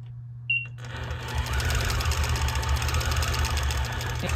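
A longarm quilting machine fitted with a ruler base starts up after a short beep and runs steadily, a close, continuous mechanical hum and rattle.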